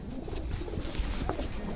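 Saharanpuri Kalsre pigeons coo softly and continuously against a busy noisy background, with low murmuring calls close by.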